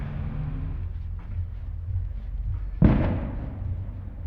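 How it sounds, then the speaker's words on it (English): A single deep explosion boom from far off in Morelia, Mexico punches through a steady low rumble of city background noise, then fades with a soft rolling tail. "It sounds like an explosion. It is an explosion."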